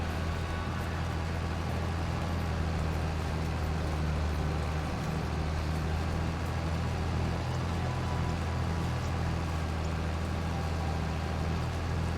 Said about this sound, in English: You being a good tractor? I think it's being a good tractor.